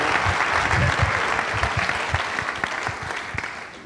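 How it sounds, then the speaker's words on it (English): A conference audience gives a warm round of applause, steady crowd clapping that is loud at first and gradually fades over a few seconds. "won't you just welcome them with a wonderful round of applause"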